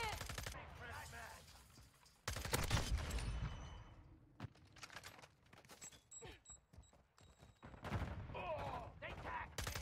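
Rapid gunfire bursts and single shots from Call of Duty: Modern Warfare 2 multiplayer, loud and close, crackling in uneven volleys with brief gaps, mixed with game voice callouts and impacts.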